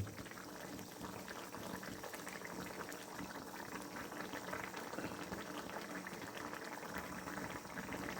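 A pot of vegetable curry bubbles at a steady rolling boil, dense continuous gurgling and popping that stays even throughout, with no voices.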